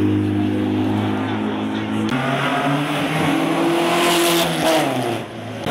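A Chevrolet Montana revs at an outdoor car meet in Curitiba, Brazil, its engine droning steadily and then climbing in pitch as the revs rise loudly and close, with a faint voice beneath.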